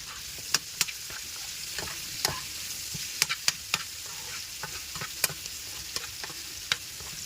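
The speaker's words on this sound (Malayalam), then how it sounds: "ഇനി ഇതൊന്ന് ഇളക്കി കൊടുക്കാം." Turmeric-coated food fries in a pan while a spoon stirs it, sharp clacks and scrapes landing irregularly over a continuous close sizzle.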